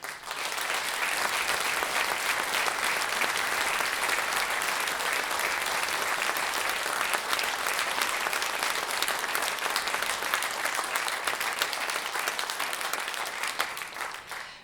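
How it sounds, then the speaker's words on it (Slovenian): A large audience claps in sustained, dense applause throughout, loud and even from start to finish, with no voices rising above it at this annual folk gathering. "Menim, da je prav, da sodelujočim še enkrat zaploskamo in jim tako sporočimo, da smo hvaležni za njihov trud in delo"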